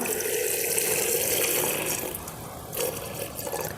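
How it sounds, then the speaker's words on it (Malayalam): Salt water poured into a jar over hog plums, a steady close gushing stream of liquid that fades slightly toward the end, with no voices. "ഇതിലേക്ക് മുങ്ങത്തക്ക രീതിയിൽ ഈ ഉപ്പുവെള്ളം അങ്ങോട്ട് ഒഴിച്ചു കൊടുക്കാം"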